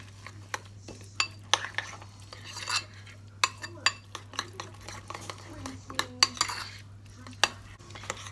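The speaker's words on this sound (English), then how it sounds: "I'm just going to mix that around just to basically beat the egg up" Spoon beating egg and quark in a bowl, with a steady run of light clinks and scrapes against the bowl over a constant low hum.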